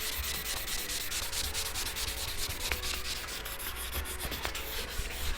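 A Honda Ruckus scooter part being hand-sanded with 500 grit sandpaper, a steady continuous close scratching rub without pause.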